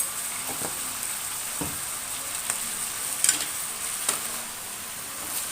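Oil sizzles steadily in a pan while brinjal fries for ennegayi palya, a village-style Karnataka curry. The hiss is continuous and close, broken by a few faint clicks and taps from stirring, with no talking.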